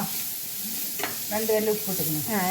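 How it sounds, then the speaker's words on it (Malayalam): Onion, garlic, ginger and fennel sauté in a pan for a homemade fish curry, a steady close sizzle with scraping stirs, while a voice talks over the second half. "ഉള്ളി, വെളുത്തുള്ളി, ഇഞ്ചി, പെരിഞ്ജീരകം അതൊക്കെ ഇട്ടിട്ട് നല്ല വഴറ്റുണ്ട് കേട്ടോ"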